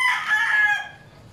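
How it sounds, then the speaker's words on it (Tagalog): A rooster crows once, close and loud, its call rising and holding then trailing off, with no other sound alongside. "Sinisilok na yung manok ah."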